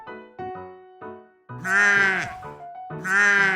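A lamb bleats twice, loud and wavering, each call about a second long, over light repeated melodic notes.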